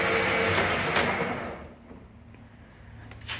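A Leblond Regal 13 x 30 gear head lathe spins down under its brake, a steady mechanical whir that fades over a couple of seconds to a quiet hum.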